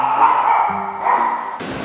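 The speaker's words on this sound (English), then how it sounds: "Maybe it'll get them to stop barking." Dogs barking and yipping indoors after a hard knock at the door: several loud, close, high-pitched barks running together over about two seconds, with a short noisy burst at the end and no speech.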